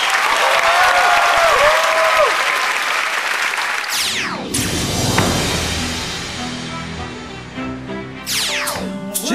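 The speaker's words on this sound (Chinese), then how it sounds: "掌声鼓励鼓励" A television singing competition audience applauds a contestant, with dense clapping and light crowd noise at first, then the clapping carries on under a rising musical sting and stage music before fading.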